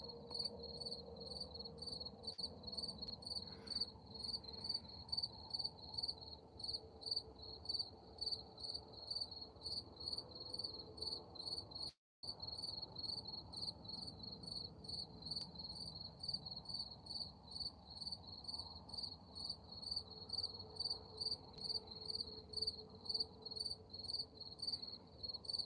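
Crickets and other insects chirp outdoors at night in a steady, rapid pulsing trill that carries on evenly throughout, with a faint low background hum and no talking.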